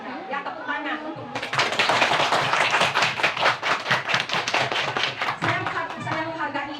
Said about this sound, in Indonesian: Ya tepuk tangan untuk